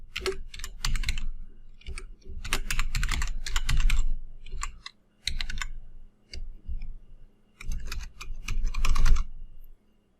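Fingers type on a computer keyboard while setting up a tenant account online, with clustered bursts of rapid key clicks separated by short pauses, close and fairly loud, no voices.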